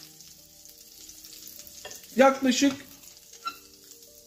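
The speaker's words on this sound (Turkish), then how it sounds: "İşte böyle kızartmak lazım." Meatball patties for a wet-style burger fry in a hot pan, a steady crackling sizzle that swells into a louder burst of spattering midway, then settles back, close and alone.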